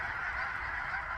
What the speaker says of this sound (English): So those are the geese,